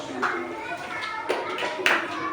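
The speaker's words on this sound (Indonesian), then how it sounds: "tepuk wow" Fifth-grade children in a classroom do the tepuk wow clapping chant, with a few sharp claps over a spread of chanting voices at moderate loudness.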